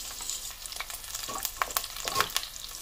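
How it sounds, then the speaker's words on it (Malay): Two crushed lemongrass stalks sauté in oil, which sizzles steadily with light crackles and a few stirring scrapes, close up and without talk. "Kemudian kita tumiskan 2 batang serai yang diketuk."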